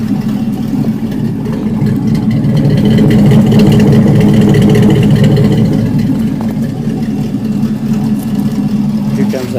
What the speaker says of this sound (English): You got the header dumps open right now?